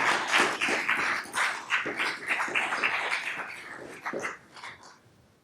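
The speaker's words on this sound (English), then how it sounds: "Another round of applause." Audience applause following a speech at the City of Fairview annual address, a steady wash of many hands clapping in a hall that holds strong for several seconds, then thins and fades toward the end.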